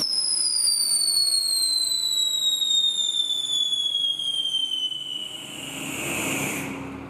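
A whistling firework from a fountain shrieks loudly and continuously, its high pitch gliding steadily downward for several seconds before fading into crackling hiss.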